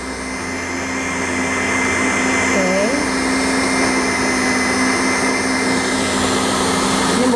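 Electric stand mixer steadily kneading garlic cheese bread dough for Korean garlic cheese bread, a continuous loud motor whir with a constant hum throughout.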